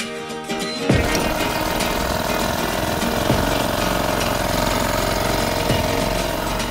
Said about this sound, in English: Once we have that secured, time to start the motor.